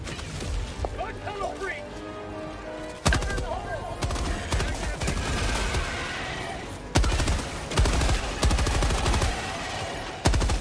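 Machine gun fire in Helldivers 2, with sustained rapid bursts and sharp heavy impacts up close, and several players talking throughout.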